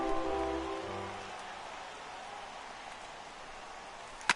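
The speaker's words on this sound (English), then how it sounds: "that rain is really coming down right now" Rain falls in the baseball video game MLB The Show 18 as a soft, steady hiss of noise that continues throughout, with a low musical tone fading at the start and a brief sharp click near the end.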